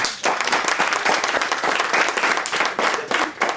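An audience at a comedy open mic claps loudly and briskly for a few seconds, a dense spread of hands with slight swells and dips.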